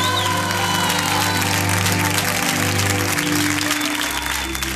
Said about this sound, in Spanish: le vamos a dar un gran aplauso a nuestra querida bailarina Paulina López